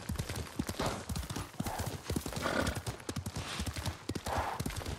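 A horse in the samurai game Ghost of Tsushima gallops with quick, steady hoofbeats and gives a neigh, all fairly close and continuous, with no one speaking over it.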